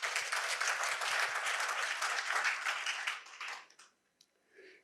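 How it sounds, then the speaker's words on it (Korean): An audience at a university lecture event bursts into brisk, dense applause, a steady roar of many hands for about three seconds that then thins and tapers off to scattered final claps and near silence. "모든 이분을 위해서 박수 한번 주십시오"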